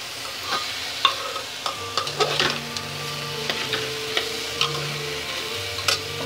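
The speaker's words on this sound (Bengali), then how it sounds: "আর একটু ভেজে নেব।" Moong dal with turmeric and salt fries in a pan for a curry with bottle gourd, a steady sizzle marked by repeated light taps and scrapes of the stirring spoon, close and wordless.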